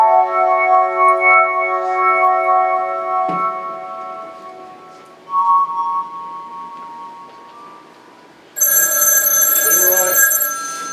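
An old-fashioned telephone bell rings loudly indoors in long metallic trills, breaking off briefly and resuming, with a bright clattering ring bursting in near the end.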